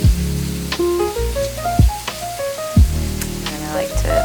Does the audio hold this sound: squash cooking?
yes